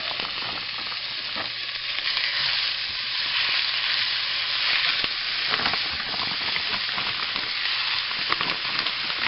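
Three pounds of hamburger meat sizzle loudly in a pan with a steady dense crackle and occasional stirring scrapes, close up and with no voices.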